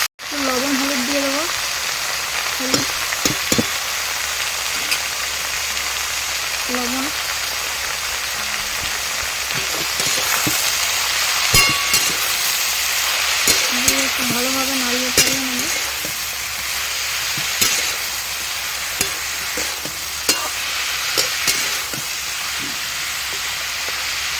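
Bottle gourd fries in a pan with black cumin paste and green chillies, giving a continuous sizzle with occasional stirring scrapes, and someone talks over it at times.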